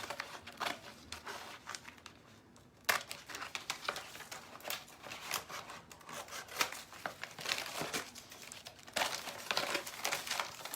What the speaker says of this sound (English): I'm gonna just kind of trim this top part off so we can get even closer to my top edge